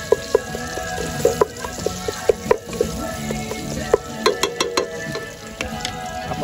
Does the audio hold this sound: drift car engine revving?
no